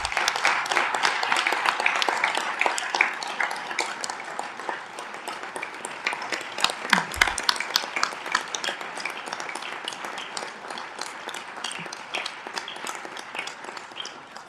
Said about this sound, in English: give them a round of applause and thank them